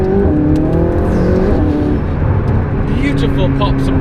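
A McLaren supercar engine revs and accelerates loudly and close, with pops and bangs from the exhaust, while someone talks over it.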